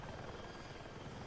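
A helicopter in the Battlefield 6 video game gives off a dense, continuous rotor-and-engine roar, steady and enveloping, with no other sounds standing out.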